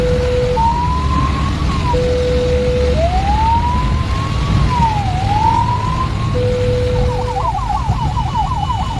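An ambulance siren sounds loud and continuous while the vehicle drives through traffic toward a hospital, shifting from a steady tone to long rising-falling wails and then a fast yelp, over road noise.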